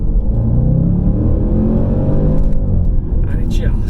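A Range Rover Sport SVR's deep engine roar with rumbling exhaust builds as it accelerates, loud and close, with a voice speaking over it near the end.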